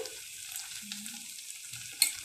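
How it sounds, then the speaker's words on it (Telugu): Tomato curry in a pan being stirred after chilli powder and salt go in: faint, quiet simmering with soft scrapes and a brief utensil clink near the end. "హాఫ్ స్పూన్ సాల్ట్ వేసి బాగా కలపాలి."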